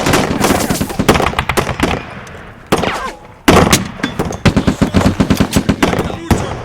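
Rapid bursts of automatic gunfire and single shots ring out loud and close as covering fire in a film battle scene, with sharp repeated cracks and short pauses between volleys and some shouting in the mix.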